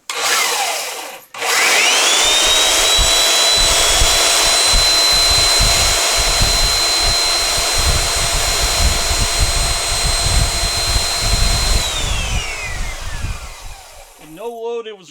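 A Porter-Cable 4x24 belt sander powered by an old gas generator during a power outage runs with a loud, steady whine and motor roar for most of the stretch, briefly cutting out near the start before spinning back up and winding down at the end.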